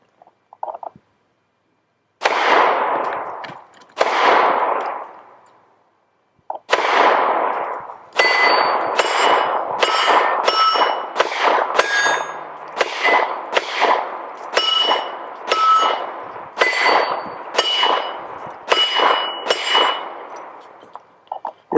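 Shots from a Smith & Wesson M&P 9mm firing Winchester White Box 115 grain rounds ring off steel pins, loud sharp metallic clangs with long ringing tails, first spaced singly and then in a rapid irregular string outdoors.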